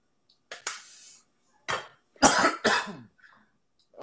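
Several harsh coughs in quick bursts, close to the listener, with short silent gaps between them.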